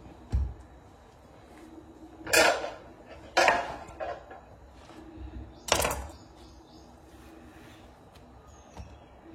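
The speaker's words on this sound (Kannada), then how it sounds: "ನಾನು ಇದಕ್ಕೆ 2 ಬಾಳೆಹಣ್ಣನ್ನು ಕಟ್ ಮಾಡಿ ಹಾಕ್ತಿದ್ದೀನಿ" Bananas being cut and added to a mix in a home kitchen during a festival cooking session, heard as a few sharp clinks and knocks of utensils against dishes, spaced a second or two apart over quiet background.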